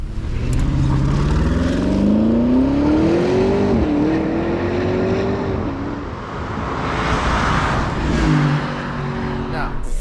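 Porsche Cayenne Turbo GT pulling hard in Sport Plus mode, its engine note climbing steadily through the gears with a brief dip at a shift, loud and close throughout.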